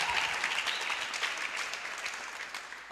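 Church congregation applauding and cheering the Lord at a special conference, a dense, sustained burst of clapping from many hands that fills the room and tapers slightly toward the end.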